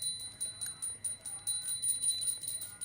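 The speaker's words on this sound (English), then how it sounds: "please ring the bell as you do so" A small hand bell rings during an Arati lamp offering at a Hindu darshan, quick repeated tinkling strikes in an irregular rhythm, fairly faint against a quiet background.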